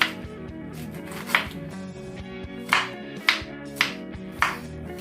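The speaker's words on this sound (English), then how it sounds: "Just chop the onions a little" Knife chopping onions on a board for a Nigerian meat pie, with a handful of sharp, separate chops spaced about half a second to a second apart over soft background music.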